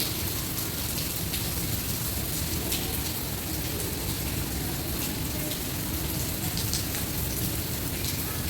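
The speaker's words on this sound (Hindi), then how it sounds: "बहुत बिजली के साथ और गरज चमक के साथ बारिश है।" Stormy rain pours down heavily and steadily, a dense close hiss of drops hitting surfaces with a low rumbling undertone, no voices heard.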